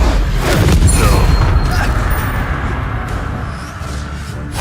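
A fiery Incendio spell is cast in the Hogwarts Legacy video game, a loud, rumbling blast that swells at once and then churns on as a sustained roar of flame that slowly eases off.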